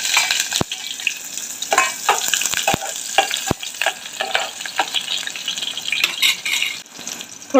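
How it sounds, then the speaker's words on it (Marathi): Onion tossed into hot oil for mutton chaap crackles and sizzles loudly, with repeated sharp spatters and clacks of a spoon stirring against the pan throughout. "तेल गरम झालेला आहे, कांदा टाकून घेऊया।"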